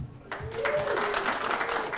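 A comedy-show crowd breaks into applause partway through, starting after a brief quieter moment; the clapping swells and holds steady, with a faint voice or tone sounding briefly beneath it.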